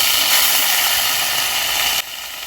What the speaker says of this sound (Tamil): முட்டைக்கோசு கட் பண்ணி வச்சுருக்கேன், அதை நல்லா அலசி வெங்காயத்தோட போட்டுக்கலாம்